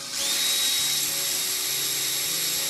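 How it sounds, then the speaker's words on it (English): Power drill boring a hole for a safe hinge during safe assembly, a loud high whine that rises at the start, steadies, then holds with slight pitch wobbles under a low motor hum. "and you just drill."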